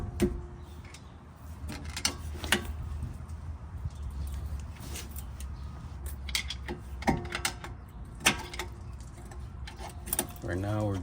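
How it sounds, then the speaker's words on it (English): A piston being slowly pushed back into a truck brake caliper with a screwdriver gives scattered metallic clicks, scrapes and clunks up close, with talk and background noise from a mobile mechanic's roadside job. "Right now we're just pushing the piston in with a screwdriver, slowly and carefully."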